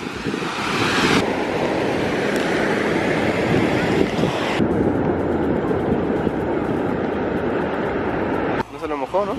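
Sea waves wash steadily onto a beach in a continuous broadband roar, with wind buffeting the microphone and people talking over it near the end.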